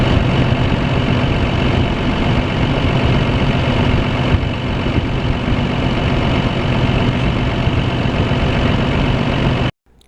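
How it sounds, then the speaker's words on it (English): A John Deere 4430 tractor engine runs steadily at close range, a loud, dense diesel rumble holding even for about ten seconds before cutting off abruptly. "It's a good time to fire up the tractor and check for leaks."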